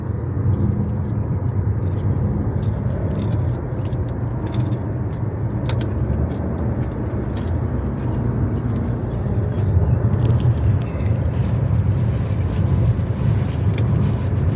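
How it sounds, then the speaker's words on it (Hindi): A car engine drones steadily while driving on an elevated road through the Vindhyachal hills in Sonbhadra, a loud continuous rumble with wind and road noise and faint voices underneath. "गाड़ी की साउंड भी अलग सुनाई दे रही है।"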